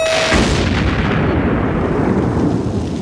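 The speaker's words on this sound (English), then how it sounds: "after getting blasted by the cannon like that" A loud cartoon cannon blast fires in one booming burst, followed by a sustained roaring rumble of explosion noise that fills the three seconds without any voices.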